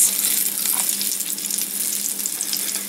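Battered green tomatoes frying in a frying pan, a steady bright sizzle and crackle of hot oil heard close and on its own.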